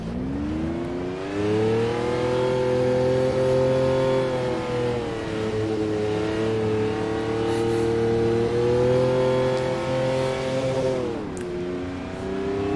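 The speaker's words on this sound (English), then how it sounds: "Mostly wheel spin." A McLaren F1 in Automobilista spins its wheels on snow, the engine holding a steady high drone that wavers slightly in pitch, then drops and dips briefly near the end.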